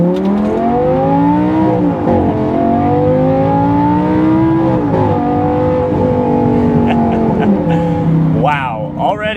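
A Lamborghini Gallardo LP550-2 engine revs loudly and close while driving, its pitch climbing and dropping through several gear changes, with a sharp rising rev near the end.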